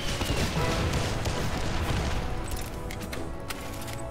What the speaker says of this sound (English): Fire the Dunraven rockets.